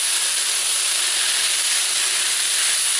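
Beef and sauce stir-fry in a hot pan, giving a loud, dense and continuous high sizzle and hiss that stays steady throughout without any speech.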